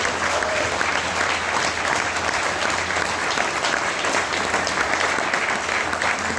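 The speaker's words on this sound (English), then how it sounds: "So can we just get a massive round of applause for Southport Community Independents?" An audience applauds at the launch of Southport Community Independents, with loud continuous clapping from a sizeable crowd holding steady throughout over a low hum in the room.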